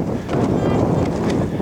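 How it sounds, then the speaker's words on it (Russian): Strong wind blows outdoors near a stream during a gold-prospecting scouting trip, rumbling and buffeting the microphone in continuous gusts for the whole short stretch. "Ветер просто капец."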